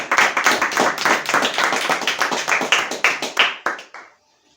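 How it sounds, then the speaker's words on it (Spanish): A church congregation claps loudly and close by, in quick, slightly uneven bursts of hand claps that stop abruptly into silence after about four seconds. "Démosle un aplauso allá donde está al Dios que vive por los siglos de los siglos."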